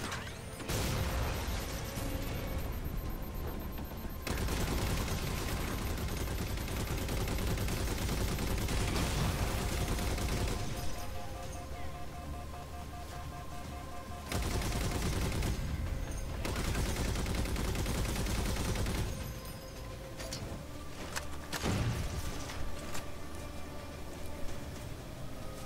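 Turret gunfire in Halo 4, loud sustained bursts of rapid automatic fire broken by short pauses, several long volleys heard close up with no talking.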